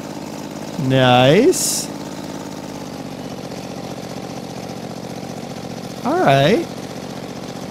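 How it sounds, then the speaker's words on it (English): An auger runs on a Chevy truck mod in the Farming Simulator 15 video game, giving a steady mechanical engine-like drone throughout, with someone briefly speaking over it twice. "Ah, and then it would auger up."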